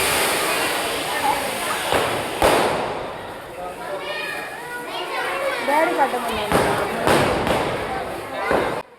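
Children chatter and shout while sharp Diwali-style firecracker bangs pop intermittently, several loud cracks scattered through the noisy outdoor scene.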